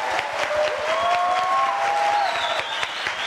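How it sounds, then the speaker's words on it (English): A crowd at a memorial in Wyoming applauds in a dense, loud burst of sustained clapping, with some whistles and cheers rising over it. "why don't we celebrate the spirit of Foster right now by giving them the biggest applause"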